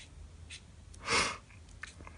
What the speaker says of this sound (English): Don't mean to be sniffing in your guys' ears.